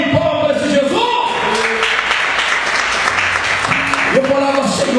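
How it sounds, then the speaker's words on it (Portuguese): Applause from a church congregation, continuous clapping over several seconds with a preacher's voice speaking over it at the start and end. "Dá uma salva de palmas para esse Jesus."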